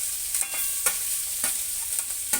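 Grated spices sizzle softly in a pan for aloo paratha, with steady frying hiss and a few light scraping stirs at regular intervals.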